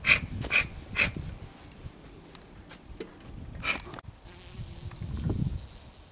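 Honey bees buzz around beehives being tended with varroa mite treatment, their faint drone broken by several louder, closer passes of individual bees.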